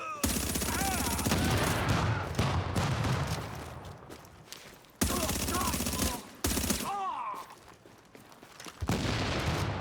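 Rapid bursts of video game gunfire fill most of the stretch, loud and dense with brief pauses between volleys, while a player's voice talks over it intermittently.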